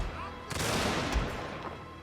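Mortar rounds strike an infantry unit in a video game, a dense burst of gunfire-like impacts and rumbling explosions starting partway in and trailing off, with a low thump near the middle.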